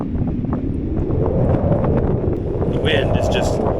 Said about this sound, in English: wind is just unrelenting at this point